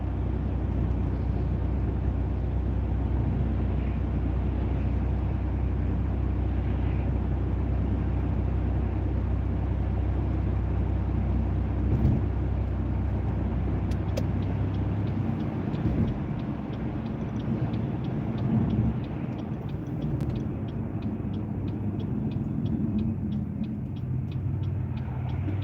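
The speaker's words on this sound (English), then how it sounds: "I need to wait for these cars to go by, then I can make my turn." Steady road traffic with cars passing by, a continuous low rumble of tyres and engines that thickens and eases without a break, heard from inside a vehicle waiting to turn.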